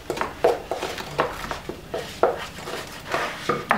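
A spoon scrapes and knocks around a bowl of banana muffin batter in irregular strokes, close up, with clicks and soft thuds repeating through the mix.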